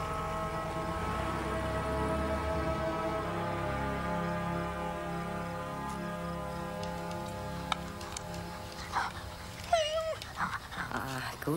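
A dog pants and whimpers steadily through a long stretch, a breathy rhythmic sound with faint whines, ending in a few sharper high yelps and small movement noises toward the close.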